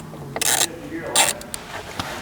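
Clicking and ratcheting of a screw being backed out of a plastic OEM paddle shifter module, a few short bursts close by with brief gaps between.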